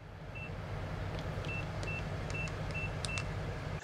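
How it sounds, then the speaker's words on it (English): Several short, high electronic beeps from a keyless RV door lock keypad sound one after another at an uneven pace over a steady low rumble. "you can turn that beeping off if you press and hold the number 1 for 5 seconds"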